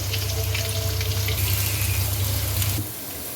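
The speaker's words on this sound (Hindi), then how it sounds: "इसमें एक मीडियम प्याज इसके स्लाइस किया हुआ है वो इसमें शामिल कर दें और इसको फ्राई कर लें" Sliced onion frying in hot spiced oil, a steady close sizzle and crackle that drops off sharply near the end, with no voices.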